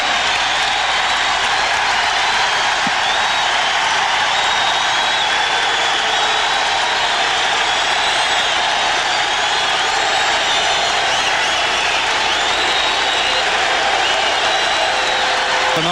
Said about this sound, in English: I don't know that I have seen an ovation quite like that in quite some time.